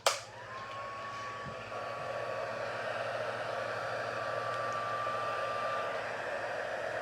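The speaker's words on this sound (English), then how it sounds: "Doesn't take long for the heat tool to get sorted, to get up to temperature." A heat tool blows a steady, close, hissing stream of hot air onto embossing powder on a card, with a brief click at the start and an unbroken whoosh throughout.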